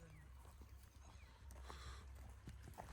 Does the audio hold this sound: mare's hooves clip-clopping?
yes